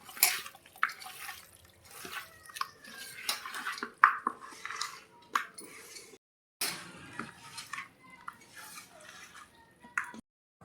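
A spoon stirs a chicken dum biryani mixture with fried onions and oil in a metal pot, giving soft, irregular scraping and clinking with wet squelches, close and fairly quiet, with a short pause partway through.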